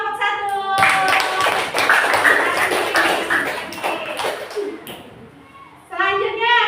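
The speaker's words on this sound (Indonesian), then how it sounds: "beri tepuk tangan untuk kelompok" A classroom of students claps for a student group during a religious studies lesson, a dense burst of applause lasting several seconds with children's voices around it and talk before and after.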